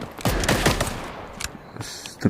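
Video game automatic gunfire rattles out in rapid bursts, loud and close, with brief pauses between volleys, in a 3v3 game mode.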